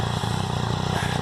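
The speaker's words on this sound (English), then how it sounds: "it just sounds so good on the decel, the popping, I love it" Exhaust popping and crackle from a 2013 Triumph Speed Triple R 1050 motorcycle with its air injection system still fitted, rapid irregular pops over a loud, steady engine rumble on deceleration, close up.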